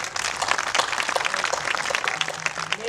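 An audience at a Marathi comedy sermon applauds blood donors with a dense, continuous round of clapping held at an even loud level throughout.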